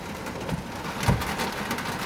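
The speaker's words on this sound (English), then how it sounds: "it's raining like a mofo out here. You guys hear that?" Heavy rain pours down outdoors in a steady, dense hiss that holds for about two seconds, with a brief louder swell near the middle and no voices.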